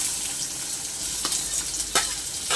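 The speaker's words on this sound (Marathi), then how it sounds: "कांदा मिरची मी सोबत घालते आणि कांदा आणि मिरची छान आपल्याला तेलामध्ये फ्राय करून घ्यायची" Chopped onion and green chillies frying in hot oil give a steady, close sizzle, with a few brief stirring scrapes near the end and no talking.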